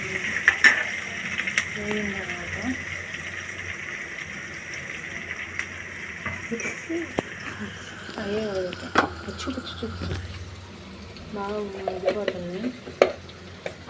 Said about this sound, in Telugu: బాగా తిప్పాలి. వాటిని మిక్స్ చేయాలి.